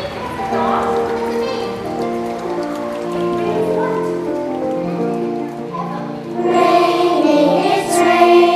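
Rain sound effect laid into a children's song about raining cats and dogs, a steady patter running under sung melody and voices, swelling louder near the end.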